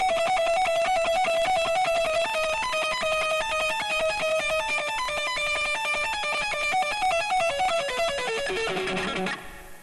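Electric guitar tapping with a delay effect: rapid bright repeating notes cascading in echoing, overlapping patterns, steady and continuous before a low note ends the run, no voices.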